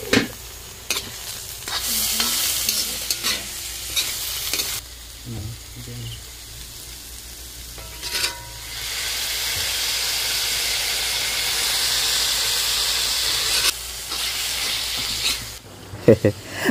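Chopped banana stem being stir-fried in a pan for a paneer dish: steady sizzling and hiss with repeated scraping stirs of a spatula, close and fairly loud, with a continuous frying hiss through the middle stretch.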